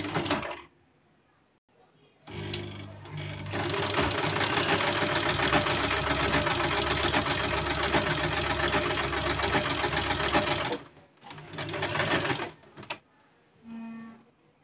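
An Usha Dream Stitch sewing machine stitching pleats runs in a loud, steady mechanical whir for about eight seconds, stops, then gives one shorter burst, with quiet pauses around it.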